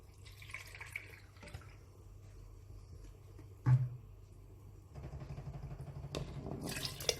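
Water is poured into a pot of green mung lentils with peel as they cook, giving a quiet splash, then a steadier running pour near the end, with no talking.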